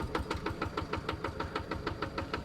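A micro tractor's engine idles in Farming Simulator 22, a quiet, regular chugging with evenly spaced knocking pulses, heard close and alone.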